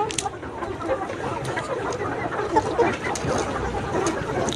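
Vaccinated layer pullets cluck and murmur in a poultry shed, giving soft, scattered calls over a constant busy background din.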